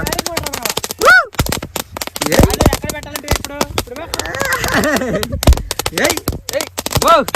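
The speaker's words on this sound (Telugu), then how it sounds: "చాలా సేపు వస్తుంది బాంబులు" A long, rapid string of Diwali firecrackers pops and cracks in dense bursts, loud and close, while excited voices shout over the explosions.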